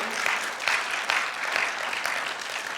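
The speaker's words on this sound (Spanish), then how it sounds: "dale el aplauso de alabanza a Él lo merece" Church congregation applauding in praise, a steady dense wash of clapping in a reverberant hall with a few louder surges, no talk over it.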